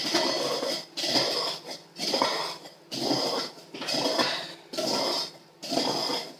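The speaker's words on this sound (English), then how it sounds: "you might just hear the noise of the microwave and the cups" Repeated bursts of clinking and clattering of cups being handled come in regular waves about once a second over the steady hum of a running microwave.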